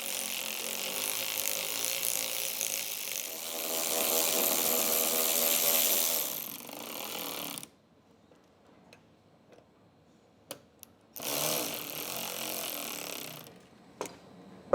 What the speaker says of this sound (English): you can loosen the two bolts.